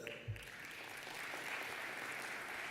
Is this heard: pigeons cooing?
no